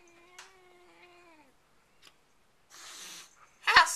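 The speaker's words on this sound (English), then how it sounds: "This is our sweet kitty." A pet cat makes brief sounds close by, a short tonal meow-like call early on, then a soft breathy rustle and a sharp closing squeak, with quiet gaps in between.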